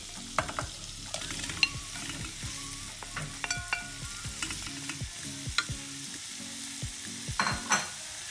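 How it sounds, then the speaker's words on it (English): Carrot and pumpkin are stirred in butter in a pot for vegan pumpkin soup, with a soft sizzle and repeated scraping strokes of the spoon, close and quiet, and no talk. "When you stir the ingredient with butter, it gives a nice smell."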